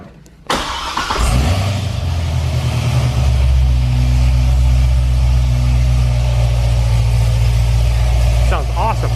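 A Corvette C6 ZR1 fitted with a titanium exhaust fires up with a sharp bark, then settles into a loud, steady, deep idle that rumbles on for several seconds close by.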